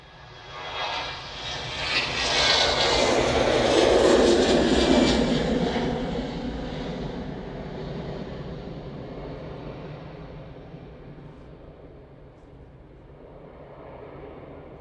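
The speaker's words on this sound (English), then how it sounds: "Another EasyJet's departing." An EasyJet jet airliner departing Manchester Airport, its engine roar swelling loud within a couple of seconds, peaking, then slowly fading into a long distant rumble as it climbs away.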